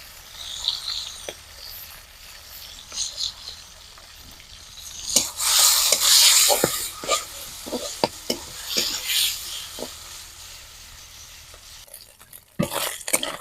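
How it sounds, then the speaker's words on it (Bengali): Small shrimp with salt and turmeric frying in a wok-style pan, giving a soft sizzle and intermittent spatula scrapes and taps, louder in a burst midway and otherwise fairly quiet; no talking. "এবার ওই একই কড়াইয়ে চিংড়ি মাছগুলো ভেজে নেব লবণ হলুদ দিয়ে"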